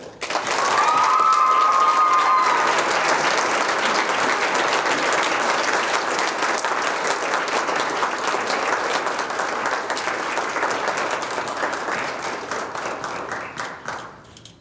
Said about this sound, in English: Please give a big round of applause for our outstanding Community Service Award leader, Jel Pena.